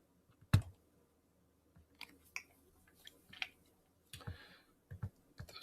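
Scattered, sparse key clicks of a computer keyboard as a password is entered, quiet and close in a silent room, with irregular pauses and a brief cluster of quick taps near the end.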